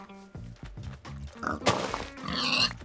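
Minecraft pigs give a quick run of short, low grunting oinks, followed by louder, rougher game noises.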